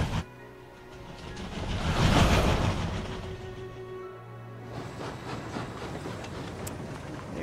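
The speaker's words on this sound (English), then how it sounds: "Uh-oh, is that a train?" A train arrives in a World of Final Fantasy cutscene, a broad rumbling roar that swells to a peak midway and then settles into a steadier mechanical hum, with no talking.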